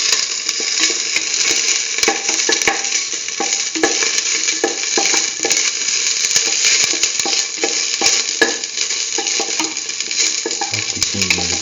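Ginger and shallot fry in a pan with a steady, close sizzle, punctuated by repeated stirring scrapes and clicks of a utensil, alone without talk.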